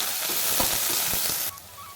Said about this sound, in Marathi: तो कांदा याच्यामध्ये टाकून आपल्याला एक दोन तीन मिनटं पूर्ण सोनेरी रंग येईपर्यंत परतून घ्यायचा आहे